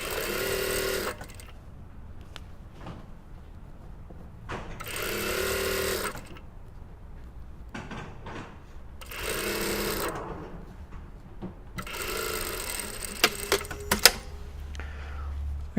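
A sewing machine stitches the waistband facing of a pencil skirt in several loud, steady bursts, with short quiet pauses between runs.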